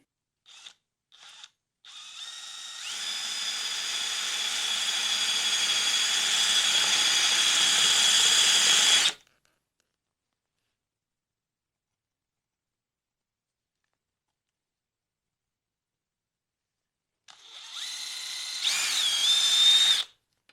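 A power drill drilling out soft metal rivets on sickle bar mower teeth, with a couple of brief taps, then a steady high whine for about six seconds, silence, and a second short run near the end.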